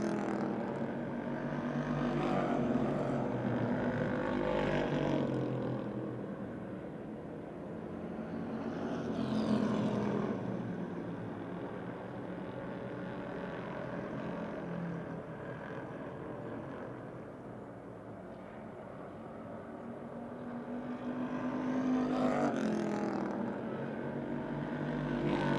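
Race cars roaring around the Motordrome Speedway dirt track, with engine drones swelling and fading as the cars pass, a continuous moderately loud mix heard without talking.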